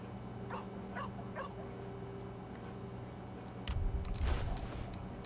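Dog whimpering and yipping in the Baldur's Gate 3 video game, several short whines in the first seconds over a steady game ambience, followed by a louder burst of noise near the end.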